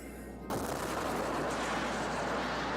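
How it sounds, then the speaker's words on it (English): In Kerbal Space Program, a sudden loud rocket explosion bursts in after a brief quiet start, followed by a sustained roaring rumble of rocket engines that stays loud to the end. "Random explosion."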